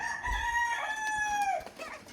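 A rooster crows in one long drawn-out call, loud and close, its harmonic tone sliding down at the end, followed by some faint clucking and background noise.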